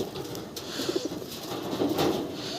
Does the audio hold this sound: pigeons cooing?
yes